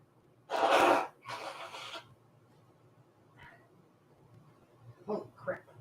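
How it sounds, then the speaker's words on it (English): A person blows their nose indoors in two loud, breathy bursts close by, followed by a few fainter sniffs and snorts after a quiet gap. "I'm going to blow my nose."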